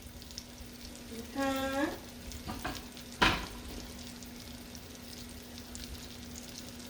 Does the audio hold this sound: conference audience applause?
no